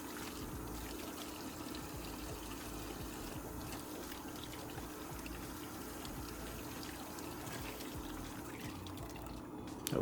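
Running water pouring and trickling steadily over a Rolex watch as it is rinsed, a continuous soft splashing stream heard close and alone throughout.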